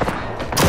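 A sniper rifle fires at a robot in a survival shooter, giving a sharp, near crack followed by a short echoing tail and a second burst at the end.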